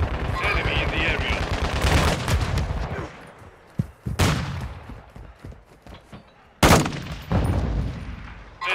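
Gunfire in the Modern Warfare 2 video game, with close automatic bursts at first, then louder single and clustered shots separated by short quieter gaps, sharp and near.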